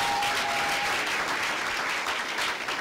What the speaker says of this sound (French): Applaudissons aussi pour maman